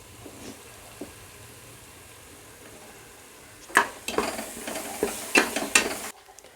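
Ginger garlic paste fries for a country chicken curry: a faint, steady low sizzle for several seconds, then a run of louder scraping stir strokes against the pan before it cuts off abruptly.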